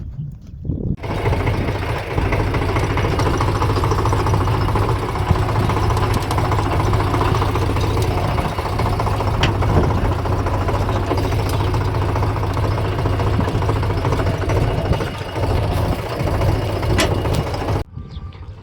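A tractor engine idles steadily nearby with a low, throbbing rumble and faint rattling vibration, continuous and unchanging throughout.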